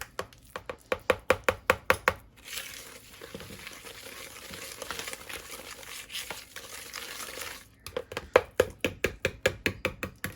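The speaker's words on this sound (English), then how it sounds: "Now we're just going to give this a quick stir" White sugar being stirred into a baking mixture for strawberry crumble bars, with rapid, regular scraping strokes at the start and end and a steadier rustling swirl in between, close and fairly loud.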